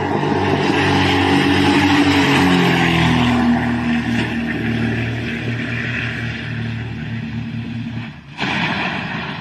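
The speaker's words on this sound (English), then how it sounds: "the plane was taking off when the left engine malfunctioned" Propeller plane on a runway during takeoff with a malfunctioning left engine, a loud, steady droning engine hum with wavering tones and a brief dropout near the end, no voices.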